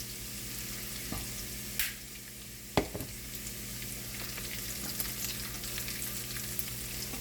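A small pinch of asafoetida hits hot oil in a pan with a low, steady sizzle, broken by a few brief clatters and stirring sounds while onion curry is started.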